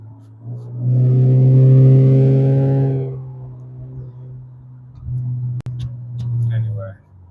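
A car's engine revs up while driving, a loud rising rumble that swells for a couple of seconds, eases, then surges again near the end under steady road noise.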